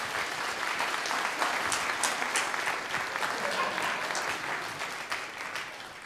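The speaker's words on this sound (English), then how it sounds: "let's all give Paul a round of applause" A workshop audience at TAM 2012 gives a sustained round of applause, a steady wash of many hands clapping at an even level from start to finish.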